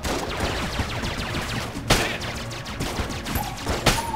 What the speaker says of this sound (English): Let's do this one. A wind-up gun.